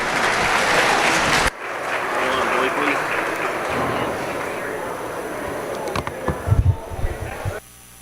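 An audience applauds at a beef showmanship livestock show with loud, sustained clapping that fills the whole stretch, then tapers into a few heavier scattered claps before stopping.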